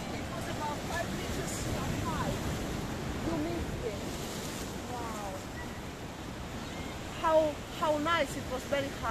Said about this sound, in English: this water is getting that little bit more violent